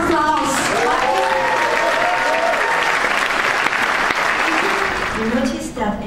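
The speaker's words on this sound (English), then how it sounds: "give them a big round of applause" Loud, dense applause fills an award night hall, a sustained wash of clapping with some cheering tones and voices mixed in, holding steady for several seconds before tapering at the close.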